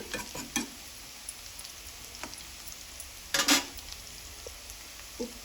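Bitter gourd pieces frying in oil and being stirred in a pan, with soft steady sizzle under scattered scrapes and clinks of a spoon, one louder stirring burst near the middle, no talking.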